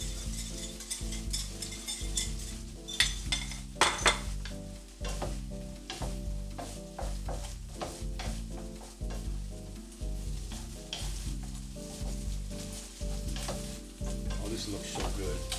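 Scrambled eggs hit a pan of sautéed mushrooms and onions and sizzle loudly and steadily, with repeated scraping and clinking as they are stirred, close up and with no talking.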